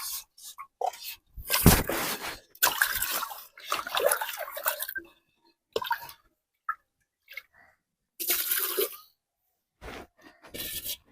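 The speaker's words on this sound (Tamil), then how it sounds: "முதல்ல தண்ணி எடுத்து இதை கழுவணும் நல்லா கழுவணும்" Water splashes and drips intermittently as a new clay cooking pot is rinsed and washed by hand, with bursts of pouring and scrubbing separated by quiet pauses.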